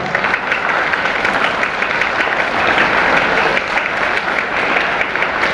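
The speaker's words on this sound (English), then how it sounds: "Let us clap" Audience clapping at a school road safety patrol investiture ceremony, a dense, even wash of applause from a sizable crowd that continues steadily throughout.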